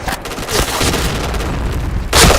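A grenade blast in a shooter video game booms loudly through dense gunfire and game noise, with a second sharp burst at the end.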